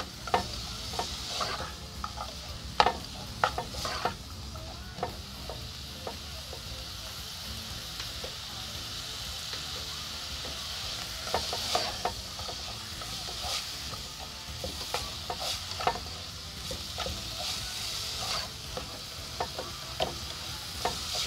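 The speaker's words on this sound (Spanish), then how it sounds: "le agregamos acá nuestro pimiento o morrón. Y dejamos que se cocine otro poquito." Chopped bell pepper simmering in a Neapolitan pizza sauce keeps up a soft continuous sizzle, broken by frequent stirring clicks and scrapes from near the pot.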